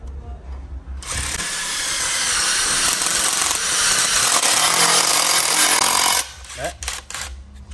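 A Makita brushless cordless impact wrench drives a screw, giving a loud continuous rattling hammer buzz close up that lasts about five seconds and then stops, leaving faint handling noise behind.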